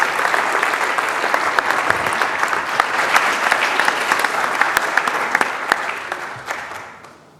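Audience at an evening rock talk event applauding loudly and steadily, a dense wash of clapping that holds for several seconds before tapering off at the end.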